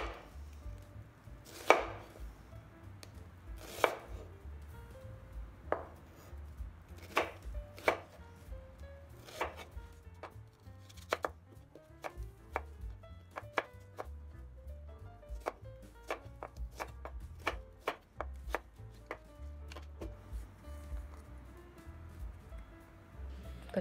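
A knife chops potatoes into big pieces for massaman curry, striking a cutting board in sharp, close, unevenly spaced knocks that come in quick runs and occasional pauses, with no voice over them.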